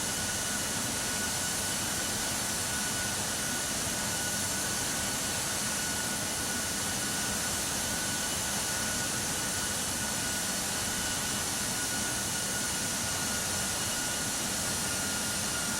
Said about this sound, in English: You can hear the engine throttle down probably.